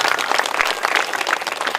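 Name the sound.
audience applause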